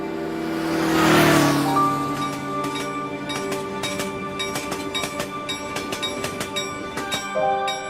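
A KRL commuter train, KA 1131, pulls slowly out of Serpong station bound for Tanah Abang, with a swelling low rumble, squealing tonal whine and a steady run of rhythmic wheel clatter and clicks close by.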